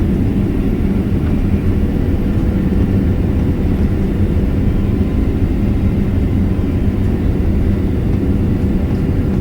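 Steady low roar of a Qatar Airways Boeing 777 cabin during landing approach into Montreal, a constant deep engine and airflow rumble with no voices.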